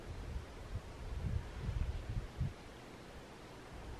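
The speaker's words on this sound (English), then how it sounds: "Wind's blowing in our faces" Outdoor wind gusts rustle softly across a hillside on a California deer hunt, a faint low rumbling swell that rises and falls over a few seconds.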